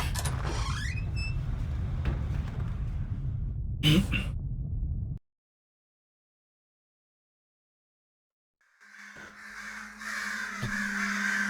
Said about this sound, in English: The bird is just making noise.